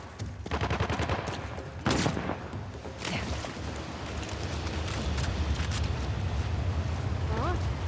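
Rapid bursts of gunfire and heavy booms fill a firefight in the video game Uncharted: The Lost Legacy, set in the Western Ghats, loud and continuous with voices shouting over the shooting.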